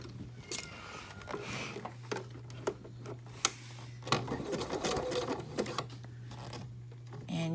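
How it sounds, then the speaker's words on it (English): A sewing machine runs a zigzag stitch on knit binding in short bursts, a close, soft mechanical whir with ticking clicks between pauses. "So now we're going to sew it. Again, using that zigzag stitch that we just used."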